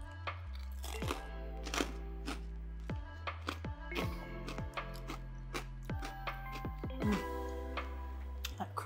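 Crispy microwave-cooked pork belly cracking and crunching as it is cut and bitten, a run of sharp close crackles over eight seconds alongside a low steady hum.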